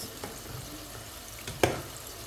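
Quiet sizzling of boiled chicken gizzards frying in a pan, with soft stirring scrapes and a sharper clatter near the end.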